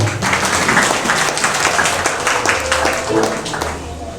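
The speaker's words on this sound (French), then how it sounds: "Applaudis mon Dieu." A church congregation applauds during Sunday worship, clapping spread through the room at moderate loudness, with voices and some background music mixed underneath for about four seconds.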